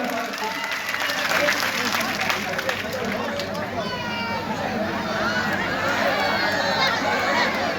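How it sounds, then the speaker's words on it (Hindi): An election rally crowd claps loudly, a dense sustained burst mixed with cheering and crowd noise, while a voice carries on over a public address system. "जोरदार ताली बजाकर"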